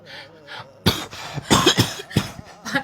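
A burst of harsh, repeated coughing close by, several hacking coughs in a row with a throat-clearing quality and brief breaths between them.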